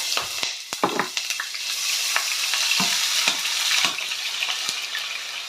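Grated ginger and bay leaves frying in a pot for jollof rice, a steady sizzle broken by sharp crackles and pops and occasional scraping stirs, close and fairly loud, with no one speaking.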